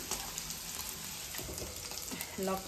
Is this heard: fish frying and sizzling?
yes